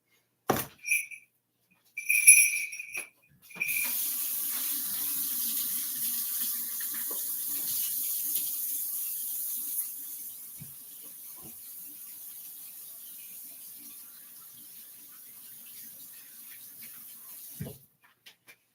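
Water runs steadily from a kitchen tap during holiday baking of a blueberry cinnamon swirl loaf, a continuous hiss lasting several seconds after a few short clatters, then cutting off abruptly.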